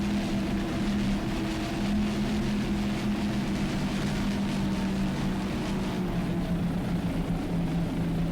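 The Santa Chevrolet racing powerboat roars past during an offshore world championship race at Key West, Florida, its engines giving a loud, continuous drone with a slowly shifting pitch.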